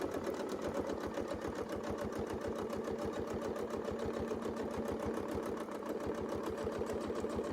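A sewing machine stitches a quilt around a Westalee circle template with a fast, even, continuous mechanical chatter, close and steady throughout.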